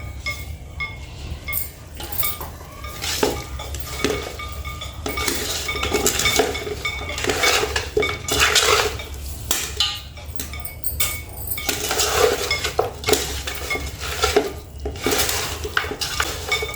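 Chicken dum biryani ingredients with freshly ground paste are mixed in a pot, a busy run of metal spoon scrapes and clinks against the pot in irregular strokes, close and fairly loud, with no talk.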